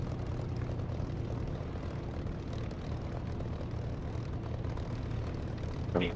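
Aircraft engine in a flight sim game, a steady low propeller drone that holds for several seconds and ends with a brief louder burst, with no voices.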